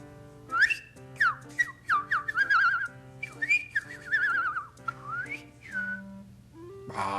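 A person whistles in quick, chirpy, warbling phrases imitating birdsong, with short pauses between bursts, close and clear.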